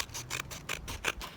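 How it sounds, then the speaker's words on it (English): Scissors cutting through the paper fold of a handmade sketchbook, a quick series of about five crisp, close snips with a slight rustle of paper between them, no talking. "We're cutting the fold away, and I'm doing the same thing here"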